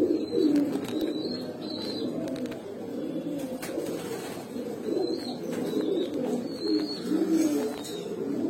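Pigeons of old breeds, including Pankhi, Grizzle and Baghdadi Homa, coo softly and continuously at close range, their low murmuring rising and falling for several seconds over a light background hiss.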